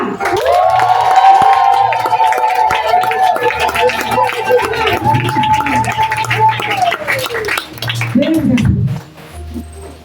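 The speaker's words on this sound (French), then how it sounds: "On peut faire les vrais cris, les cris de joie. Puis avec les acclamations." A church congregation erupts in loud cheers and joyful shouts, voices rising together with some clapping, sustained for several seconds before fading out.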